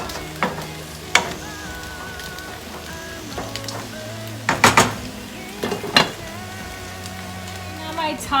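Taco meat browns in a pan with a low, steady sizzle, punctuated by occasional clinks and scrapes of a utensil against cookware, close and moderately loud.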